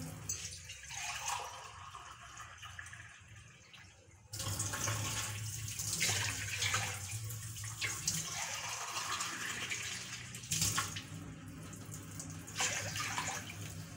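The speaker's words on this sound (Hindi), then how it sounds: "ये हम तीन गिलास पानी डालेंगे इसमें" Water pours steadily into a cooking pot in a few splashing runs with brief breaks, close by, with no talking; about three and a half glasses of water for making jaggery rice.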